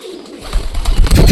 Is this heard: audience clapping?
no